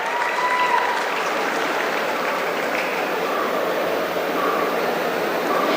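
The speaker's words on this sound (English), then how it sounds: "So give her a big round of applause." Steady applause at a graduation day ceremony for a graduate, a dense, even patter of many hands clapping in a large hall that continues throughout at moderate, slightly distant loudness.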